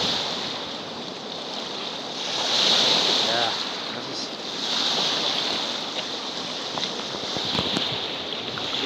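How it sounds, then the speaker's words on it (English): Gale-force wind, with gusts near fifty miles an hour, drives waves across Coldwater Lake near Mount St. Helens, Washington: a steady roaring rush that swells in surges. A voice briefly speaks once. "probably 50-mile-an-hour gusts out there. It's blasting pretty good out here."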